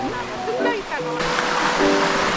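Clear water rushes steadily along a valley stream between forest and rock formations, a broad close hiss that fills the clip beneath a voice talking.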